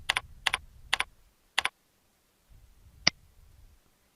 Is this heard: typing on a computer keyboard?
yes